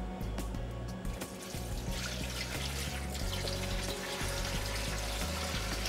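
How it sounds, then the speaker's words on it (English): Fresh water pours steadily into a large stock pot holding bones for Korean bone broth, a continuous splashing rush with a few clinks, fairly quiet and close. "We're gonna put some fresh water in here."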